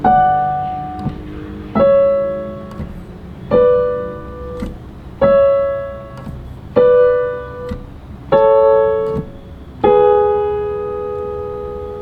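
Slow piano chords from a La La Land theme struck one at a time, about eight in a row, each left to ring and fade before the next, clear and close.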